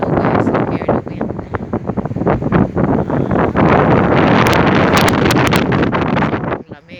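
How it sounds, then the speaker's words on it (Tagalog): Strong wind buffets the microphone outdoors on a windy fishing trip, a loud, rough, continuous rumble with gusting swells and a few sharp crackles near the end. "I hear the wind"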